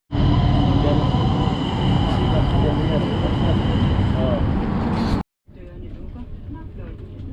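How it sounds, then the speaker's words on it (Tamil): A train rumbles loudly into a station in Malmö, Sweden, with steady mechanical roar and squealing. It cuts off briefly, then quieter station noise and voices follow. "ஸோ நமக்கான ட்ரெயின் வந்துருச்சு"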